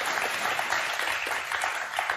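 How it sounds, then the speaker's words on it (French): Studio audience on a French television game show claps steadily, a bright even burst of applause filling the room with no talk over it. "Il y a des applaudissements pour Eugénie et Maxime"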